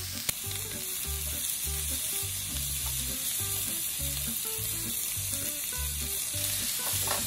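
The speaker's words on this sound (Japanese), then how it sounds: "中火ぐらいでゆっくりとじっくりと炒めます。" Sliced mushrooms with a pinch of salt sauté slowly over medium heat, a soft, even sizzle running throughout under a faint low musical background, with no voices.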